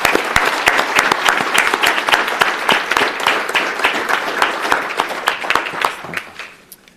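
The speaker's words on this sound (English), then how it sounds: "Can I have a round of applause for these great students?" An audience at a school board meeting claps for students, steady applause with sharp individual claps filling the room for several seconds before fading out at the end.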